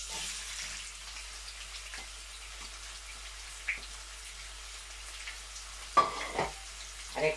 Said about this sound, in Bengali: এখন দিয়ে দিতেছি পুরা 2টা পেঁয়াজ মিডিয়াম সাইজের।